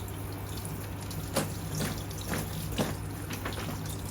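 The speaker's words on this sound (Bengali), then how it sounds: "এখন আমি লাউগুলোকে একটু পরিষ্কার করে ধুয়ে নেব দেখুন কিভাবে ধুয়ে নিচ্ছি জাস্ট চালনির সাহায্যে" Bottle gourd pieces are rinsed with water in a sieve, giving soft, steady running water with a few light splashes and drips at irregular intervals, fairly faint and close.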